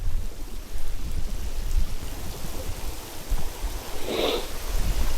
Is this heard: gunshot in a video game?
no